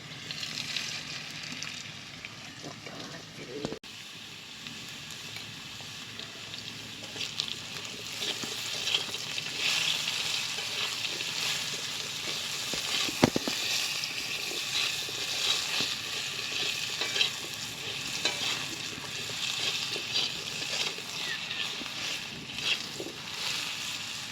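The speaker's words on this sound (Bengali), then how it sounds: "লবণ হলুদ দিয়ে আলুটা আমি ভালো করে ভেজে নেব।" Steady sizzling of potatoes with salt and turmeric frying in hot oil in a pan, occasional soft stirring clicks, continuing evenly throughout with no talking.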